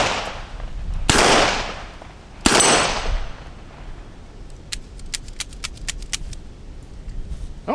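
Two loud, sharp blasts from a Ruger Security Six revolver fired outdoors, the first around one second and the second around two and a half seconds, each followed by a long decaying echo; faint clicks and rattles come after.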